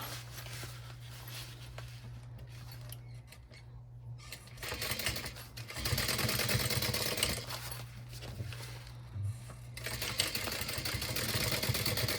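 Sewing machine top stitching a crossbody bag, a steady mechanical whir running in bursts with short pauses between runs, fairly quiet and close, no talking.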